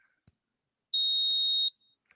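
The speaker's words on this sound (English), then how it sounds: "It does a random beep every 5 to 45 minutes," A small battery-powered prank circuit board with a speaker gives one loud, piercing, steady high-pitched beep lasting under a second, with near silence before and after.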